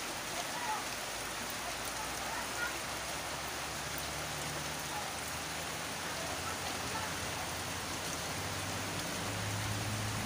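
Rain falling over flood water, a dense, even hiss of drops that continues unbroken throughout at moderate level, with no voices.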